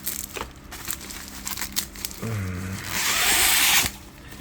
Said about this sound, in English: Looks like the blade has lost its sharpness, but we'll be careful with it this time. Cutting this open